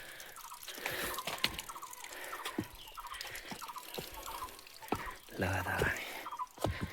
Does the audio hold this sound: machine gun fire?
no